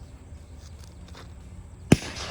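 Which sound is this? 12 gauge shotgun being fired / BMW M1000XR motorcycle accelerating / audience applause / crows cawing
12 gauge shotgun being fired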